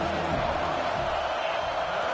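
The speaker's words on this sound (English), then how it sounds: "This crowd rising up, sensing that its defense needs some help." Stadium crowd noise swelling in the video game College Football 26, a broad steady roar of many voices filling the stands with a faint low rumble beneath.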